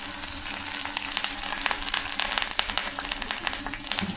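Close, continuous sizzling and crackling of spices frying in hot ghee, with rapid little pops throughout.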